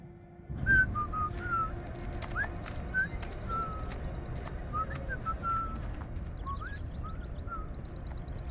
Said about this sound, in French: Arrêtez de siffler, bordel!